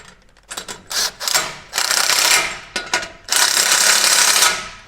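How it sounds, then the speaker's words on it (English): A ratchet tightens an exhaust hanger clamp on a 2011-2023 Ford 6.2L or 7.3L truck during a clamp-on exhaust kit install: several loud, rapid clicking bursts up close, separated by short pauses. "Now I'm going to tighten my clamp for my hanger."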